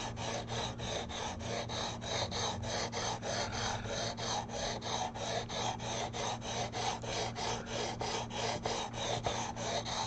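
A file held with very light pressure rasps along guitar frets, following the fingerboard radius in even back-and-forth strokes, close and steady, about two strokes a second, with no talking.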